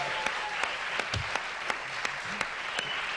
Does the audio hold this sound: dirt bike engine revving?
no